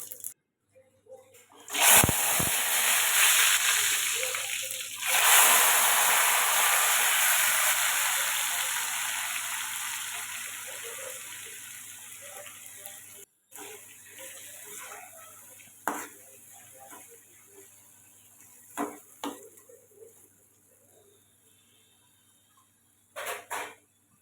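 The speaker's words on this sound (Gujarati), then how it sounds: "એટલે પહેલાં ટમેટાનો વઘાર કરી લઈશું." Tomatoes hit hot oil with mustard seeds and cumin, flaring into a loud hiss that slowly fades, followed by quieter stirring scrapes and a few clinks of a spoon against the pan.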